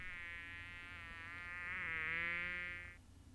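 A housefly buzzes for about three seconds during a French children's story reading, a close, steady whining drone that swells slightly in the middle before stopping abruptly.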